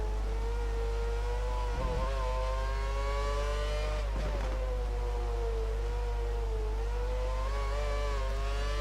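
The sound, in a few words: F1 race car engine in F1 2013 video game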